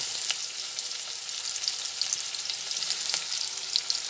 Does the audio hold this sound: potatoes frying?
yes